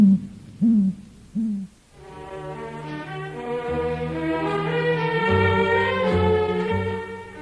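Three deep, soft hoots of a great gray owl in Grand Teton National Park sound close together, then fade as sustained music swells in and fills the rest.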